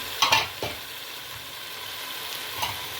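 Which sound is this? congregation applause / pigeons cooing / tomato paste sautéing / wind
tomato paste sautéing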